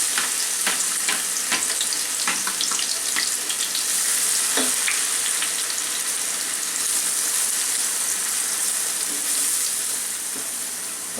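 About a cup of garlic frying in hot soybean oil in a wok gives a dense, continuous hiss and crackle, close up, with a few utensil taps early on and no talking.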